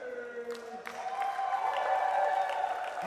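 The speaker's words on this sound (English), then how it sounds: "the Southeast Asia surge here getting the biggest round of applause from the crowd" Crowd applause and light cheering break out at a pickleball final on the championship court at the MLP Australia event on the Gold Coast, a short burst of clapping at moderate volume.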